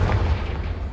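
A Confringo spell blast goes off in Hogwarts Legacy, a loud, low booming burst that fills the whole moment and fades slowly with no pause.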